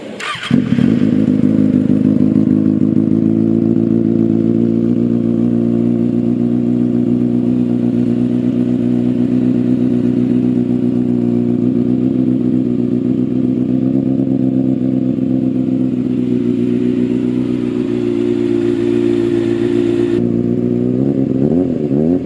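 A Kawasaki ZX636 sport motorcycle with a titanium exhaust idles close by with a deep, steady, throbbing rumble that holds evenly for a long stretch.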